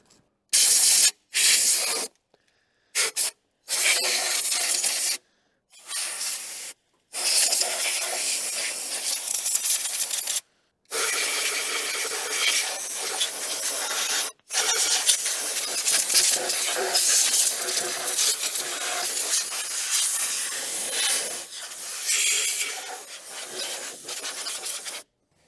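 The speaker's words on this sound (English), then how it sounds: "I forgot to blow all this out with the compressor." Bursts of compressed air from a shop compressor blast around the diesel injector area of an old Allis Chalmers track loader, loud steady hissing rushes interrupted by short pauses.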